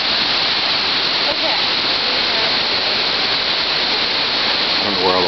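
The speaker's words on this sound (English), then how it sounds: "Looking down the river, the base of the falls" Whatcom Falls in Bellingham roars as a steady, loud rush of falling water, a dense unbroken wash of noise from start to finish.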